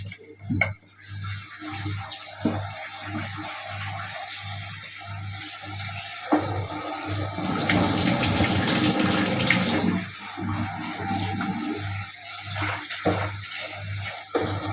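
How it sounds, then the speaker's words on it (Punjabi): Tap water runs into a kitchen sink while vegetables are rinsed, steady splashing with intermittent bursts and a louder continuous gush in the middle, no talking. "ਹੁਣ ਆਪਾਂ ਸਬਜ਼ੀ ਧੋ ਲਈਏ"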